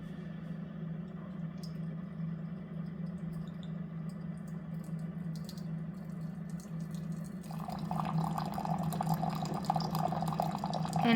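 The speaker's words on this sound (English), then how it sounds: "I'll press down that lock button and then hit the dispense water button." Countertop reverse osmosis system hums steadily, then starts dispensing near-boiling hot water at about 203 degrees, a soft liquid pour and fill building up close by with no talking.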